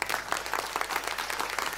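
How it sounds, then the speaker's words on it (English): An audience at an online launch event for a JCB side-engine telehandler applauds in a steady, faint patter of clapping for a brief moment, with no voices over it. "Let's welcome him with a thunderous applause."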